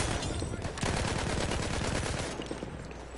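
Rapid Battlefield 1 gunfire rattles continuously in a loud, dense fusillade of overlapping shots, easing off slightly toward the end.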